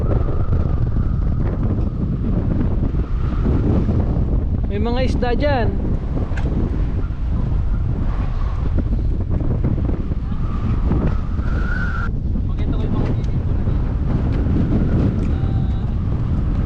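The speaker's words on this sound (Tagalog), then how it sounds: "Sobrang lakas ng hangin." Strong wind at the Souris Swing Bridge buffets the microphone in constant heavy rumbling gusts while a person talks over it; a brief whistling tone rises partway through.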